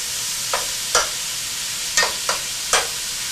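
Spaghetti sauce is stirred in a pan: five separate spoon scrapes, sharp and close, spaced irregularly over a quiet background.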